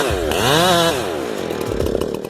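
A Husqvarna 372 X-Torque chainsaw, a roughly 70 cc saw, roars loud and close while cutting a large tree, its engine pitch sweeping up and down under load.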